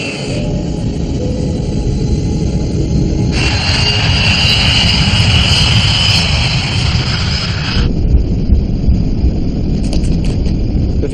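A West Caribbean jet airliner roars down runway 21 left at Panama's airport on its takeoff roll, a loud continuous engine rumble with a brighter whine swelling for several seconds and then easing back. No one talks.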